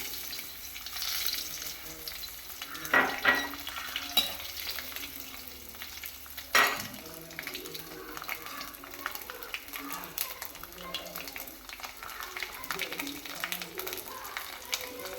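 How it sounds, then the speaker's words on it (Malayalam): Mustard seeds and a few grains of rice splutter in hot oil, a steady crackling sizzle close by, broken by a couple of louder clattering knocks. "അരിയും കടുകും എല്ലാം പൊട്ടിക്കഴിഞ്ഞ് കഴിയുമ്പോൾ"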